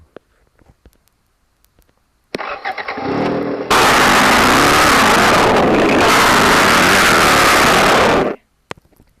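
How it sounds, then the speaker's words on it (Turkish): A video game car engine starts and roars at a steady high rev for several seconds before cutting off abruptly, loud and close. "egzoz sesini ayarlayabiliyorsunuz tabi."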